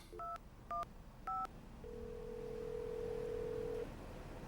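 Three short touch-tone beeps sound as a mobile phone number is dialed, followed by a long steady tone. All of it is soft and clear over faint background hiss.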